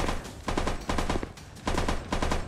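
Rapid bursts of automatic gunfire in a VR shooter game, loud and close, with several sustained volleys separated by short pauses.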